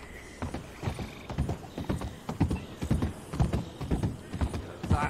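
Horse hooves clip-clop at a steady riding gait in Red Dead Redemption 2, a rhythmic run of close, moderately loud hoof strikes with faint ambient game sound and no talking.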